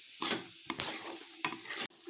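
Banana stem stirred together with masala in a kadhai, a few scraping strokes with soft sizzling between them, close and fairly quiet.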